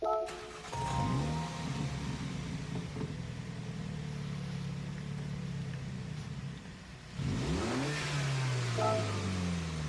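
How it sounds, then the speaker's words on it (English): A 2005 Mini Cooper S engine in the video game Gran Turismo 7 cranks and starts, then idles with a steady mid-pitched hum before revving up again near the end; no voices. "So I'm going to click on this car, we'll listen to the startup sound"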